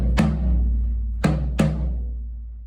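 Three hits on a Tama Starclassic Performer birch/bubinga 16-inch floor tom, played with the butt end of the stick and worn bottom head, each a deep booming strike ringing out long, with a slight background rattle.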